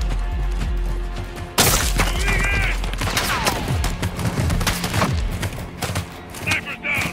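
Gunfire in Modern Warfare 2's Cartel Stronghold mission booms out from a heavy shot, then a ragged volley of shots and impacts follows, mixed with voices talking throughout.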